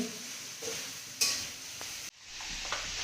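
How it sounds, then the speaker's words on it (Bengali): Young jackfruit fries in a pan with a soft, close sizzle, broken by stirring scrapes and a sharp clatter of a utensil, then the sizzle resumes after a brief cut. "ফ্রোন দিয়ে এঁচড়টা একটু দিয়ে ফ্রাই করে নিচ্ছে"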